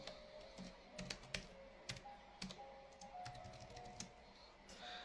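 Typing on a computer keyboard: quick, close, irregular clicks and taps in short bursts with brief pauses, faint overall and with no talk.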